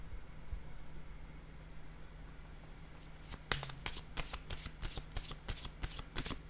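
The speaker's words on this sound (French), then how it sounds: "je vais piger une carte ici, là" Playing cards riffled and drawn from a deck during a tarot-style reading, a quiet hum at first, then a run of crisp, close flicks and snaps in the second half.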